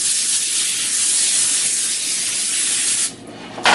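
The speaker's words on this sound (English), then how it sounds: "So I'm going to spray the baking sheets with Nonstick spray." Nonstick cooking spray hisses in a steady, loud burst for about three seconds onto a foil-lined baking sheet, stops briefly, then starts again.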